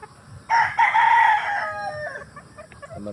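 Walton Blue gamefowl rooster crowing once, a loud, close, drawn-out cock-a-doodle-doo that rises sharply and then tails off with a few fainter notes, with no talking.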